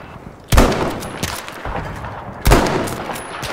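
Two sharp, loud Kar98k bolt-action sniper rifle shots in Battlefield V, about two seconds apart, each with a ringing tail and distant battle ambience between them.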